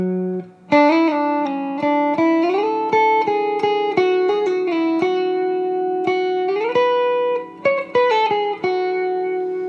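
Electric guitar with effects plays the third pass of a melody, a clear run of sustained, bending lead notes with reverb that rises and falls in pitch over a steady low tone, loud and alone without speech.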